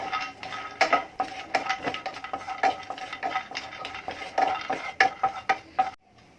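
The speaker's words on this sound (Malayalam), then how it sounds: "ഇതിൽ ബദാമും അതുപോലെ ഒന്ന് വെറുതെ വറുത്തെടുക്കാം" A spoon scrapes and stirs almonds dry-roasting in a pan, with repeated clinks and scrapes in an uneven rhythm, close and fairly loud, ending in a brief quiet.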